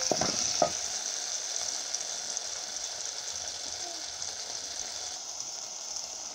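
Carrots and green beans sizzle and fry steadily in a pan, a constant close hiss with a few clatters of stirring at the start, no voices.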